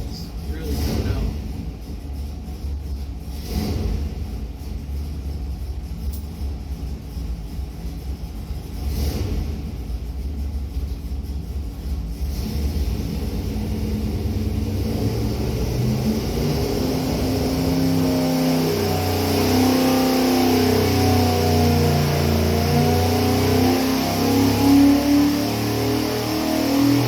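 1970 Mopar 440 big block, built in 1988, running on the dyno, a loud engine rumble that builds into a sustained rising roar, with people talking over it early on.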